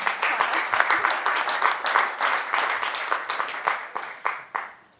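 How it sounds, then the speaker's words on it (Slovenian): A hackathon audience claps in a short burst of applause, with dense, irregular hand claps that fade out toward the end, heard without talk. "če lahko še en aplavz za njih"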